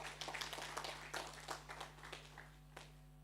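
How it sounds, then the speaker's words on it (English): Faint, scattered audience clapping at a wealth summit in the UK after a pastor's talk, distant and thin over a steady electrical hum. "A very big round of applause again for Pastor Tayo"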